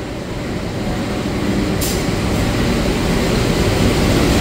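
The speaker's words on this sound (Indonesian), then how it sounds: "lalu kereta api Mutiara Timur masuk teman-teman" Mutiara Timur train rolling into Surabaya Gubeng station, a steady low rumble of wheels and engine building gradually, with a brief hiss partway through and no talk.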